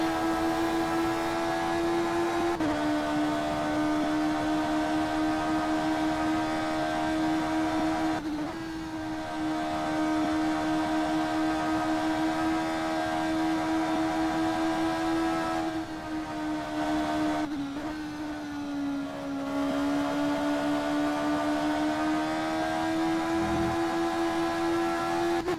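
A Porsche race car engine at the 24 Hours of Le Mans endurance race (WEC 2014), a steady high-pitched drone that holds close and loud for the whole stretch, with small dips in pitch as the car shifts or lifts.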